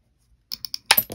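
Mosaic nippers snipping orange, yellow and cream glass cane into half-inch chunks: three quick crisp clicks followed by a sharper snap and small glassy scatter, close and alone after a brief silence.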